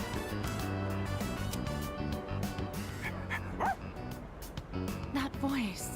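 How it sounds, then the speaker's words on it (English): Dog barks and whimpers in Persona 3 Reload, short yips and a rising whine over steady game music, with talk over parts of it. "Oh, we get to hang out with the dog."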